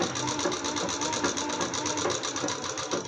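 Steady, fast rhythmic whirring of a sewing machine stitching salwar panels together, running continuously and close up with no talk.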